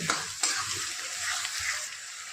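Ginger-garlic paste sautéing in a hot pan for Maharashtrian pav bhaji, a steady soft sizzle with light stirring scrapes, close and fairly quiet, no voices.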